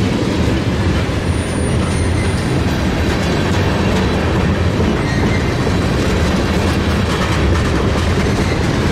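Freight train of big hopper cars loaded with aluminum scrap rolls past close by, a loud continuous rumble and rattle of wagons with steady clickety-clack throughout.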